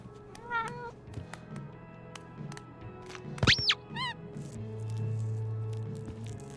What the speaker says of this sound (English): We'll lure the kitty cat with the toy.